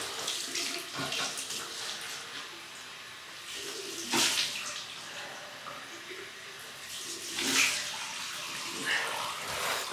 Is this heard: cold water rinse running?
yes